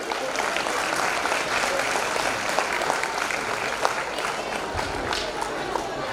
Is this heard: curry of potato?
no